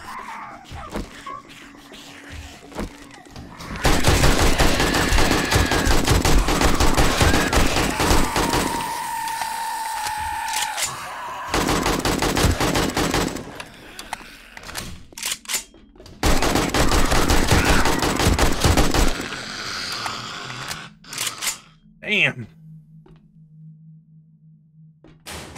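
Sustained bursts of AK rifle fire in the zombie survival game 7 Days to Die, rapid and loud in three long runs separated by shorter pauses, with a brief sharp sound near the end before quieter game ambience.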